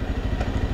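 A motorcycle engine runs close by during a roadside police stop, giving a dense, continuous low rumble with faint clattering and no break for its brief duration.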